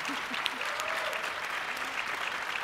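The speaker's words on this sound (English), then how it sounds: "Would y'all give a huge round of applause for this panel?" Audience at a student panel session of a schools conference applauding in a steady, dense wash of clapping that holds evenly throughout, with no voices on top.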